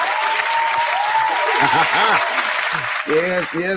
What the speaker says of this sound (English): I want y'all to give a nice warm round of applause for Miss Aaliyah